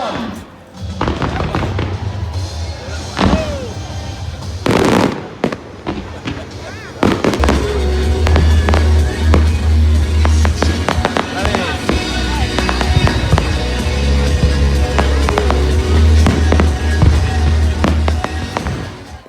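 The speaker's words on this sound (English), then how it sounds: "kick off with the fireworks" Fireworks display at a Centre Parcs Elveden Christmas event, with a steady barrage of booms, crackles and thuds going on for most of the stretch, loud and close, with people talking over it now and then.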